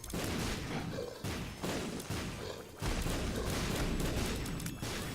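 Dense, rumbling bursts of explosions and blasts in The Binding of Isaac: Afterbirth+, continuous and loud with brief gaps between the volleys.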